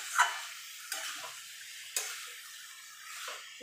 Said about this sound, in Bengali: দিয়ে এবার ভালো করে মশলার সঙ্গে মোচাটাকে মিশিয়ে নেব